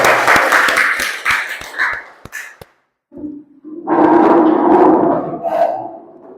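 An audience bursts into brief applause with sharp separate claps, falls silent for a moment, then a second, fuller round of clapping follows, heard indoors at a group presentation.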